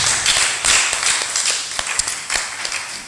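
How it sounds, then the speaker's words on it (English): Audience applause at a Pan African music fashion runway show, a sustained crowd clapping with scattered sharper individual claps, fading slightly toward the end, with a faint voice beneath. "Please keep the applause going."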